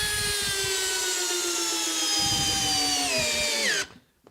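A Makita XPH07 cordless hammer drill runs on speed 1 in drill mode, a steady loud whine with a falling pitch as it bogs under load, then cuts off abruptly near the end.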